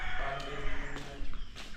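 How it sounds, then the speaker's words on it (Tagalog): A chicken cackles and clucks close by in short, uneven calls over a steady background hum. "Pababahan mo na Jomar para mangitlog yung manok natin."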